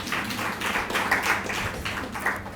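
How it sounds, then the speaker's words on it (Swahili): Audience applause at a youth event for United Africa: a steady patter of hand claps from a modest crowd, moderately loud and sustained for a couple of seconds. "Makofi tafadhali."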